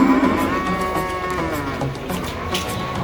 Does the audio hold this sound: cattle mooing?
yes